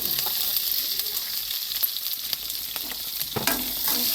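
Onion and green chilli sautéing in hot oil with fennel seeds for a chicken fry, a steady close sizzle with scraping stirs and a few sharper clinks of the spoon.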